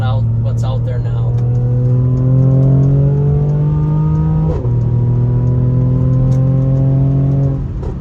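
Mercedes-AMG GLE 43 twin-turbo V6 accelerating from inside the cabin, with a loud rising engine drone that climbs through two gear changes and a brief dip at the shift, plus faint crackles early on.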